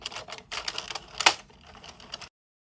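An Addi or Sentro knitting machine cranking while casting on waste yarn, a close, quiet run of rapid plastic clicks and ratchets in uneven bursts before stopping abruptly.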